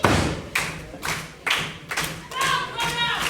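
Heavy thuds of a wrestler being dropped back into the ring at a live indoor wrestling title match, several loud broadband impacts about half a second apart, with crowd noise ringing underneath.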